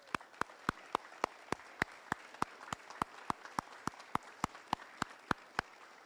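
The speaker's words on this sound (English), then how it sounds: "How about a round of applause?" At a graduation ceremony for service-dog teams, quiet, evenly spaced claps land roughly three times a second, each sharp and distinct against a soft background, like a small group clapping in unison.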